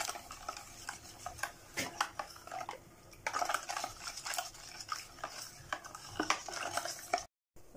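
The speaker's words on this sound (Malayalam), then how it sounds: "നല്ലോണം ഇളക്കുക." A spoon stirs egg pudding mixture with vanilla essence and cardamom powder in a bowl: quick, continuous scraping and clinking strokes, close and alone, with a short break near the end.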